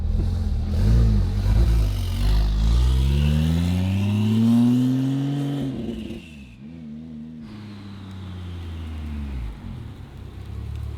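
A rebuilt Porsche 911 Turbo pulls away and revs, its engine note rising through the gears, then fades as it drives off around a building before a brief shift and renewed engine whir, no speech.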